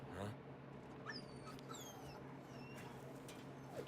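A dog in Resident Evil 4 Remake lets out several short, high whimpers and thin whines over a low ambient hum, faint and close, with some soft clatter.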